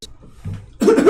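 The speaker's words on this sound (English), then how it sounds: "Why are you coughing?" A short cough during a tabletop gaming session, close and fairly loud after a quiet stretch with faint background murmur.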